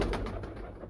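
Pigeons cooing from a rooftop loft of breeder pairs, a steady, fairly close run of soft low coos with no talk over them.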